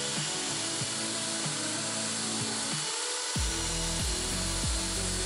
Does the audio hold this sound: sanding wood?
yes